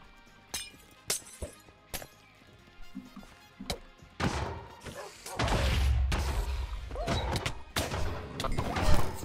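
Blasts in the Minecraft minigame Dwarfs vs. Zombies: scattered sharp clinks and knocks give way to a loud, rumbling stretch of explosions that swells and keeps going to the end.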